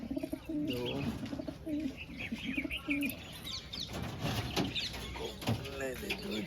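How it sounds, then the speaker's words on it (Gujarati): Pigeons coo close by in repeated throaty rolling calls, mixed with light chirps and a little rustling against background noise. "આપણા કબૂતર છે ભાઈઓ."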